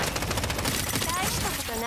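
Chaotic gunfire and a bomb blast in an anime-style first-person shooter, loud continuous crackling bursts filling the whole moment, with a player's voice under the din.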